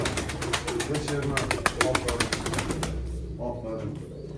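Pigeons cooing close by amid a rapid flutter of wings and rustling, with someone talking over them.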